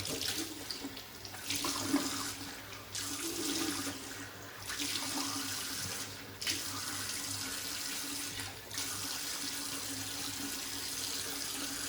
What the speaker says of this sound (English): Let's wet the face and we'll get lathering.